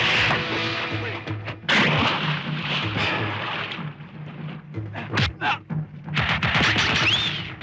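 Loud, repeated gunshots crack and boom close by in irregular bursts, with shouting voices mixed in among the blasts.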